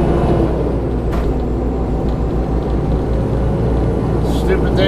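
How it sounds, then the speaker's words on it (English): A manual-shift truck's engine cooling fan roars on while driving on a highway, adding a loud steady whoosh over a deep engine drone, with brief air hisses and a voice talking over it. "hate when that fan comes on when I'm trying to shift"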